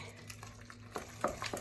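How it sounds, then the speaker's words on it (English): Zeppole dough being stirred in a pot, giving soft scraping and sloshing strokes that come in a few quick bursts toward the end, close by and fairly quiet over a low steady hum. "just keep stirring this until it's some kind of a consistency that you can scoop it out"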